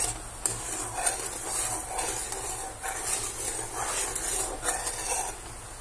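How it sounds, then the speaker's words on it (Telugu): Jaggery syrup bubbling in a pan while sesame balls are cooked, a soft steady sizzle with faint pops and occasional clinks of a utensil against the pot, no talking. "ఈలోపు బబుల్స్ వస్తున్నాయి కదా, పాకం రావాలన్నమాట."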